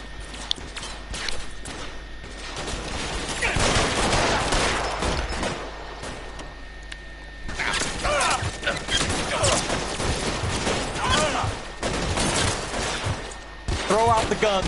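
A shootout in the video game L.A. Noire, with dense bursts of gunfire and rapid shots rattling almost continuously over a loud, busy mix.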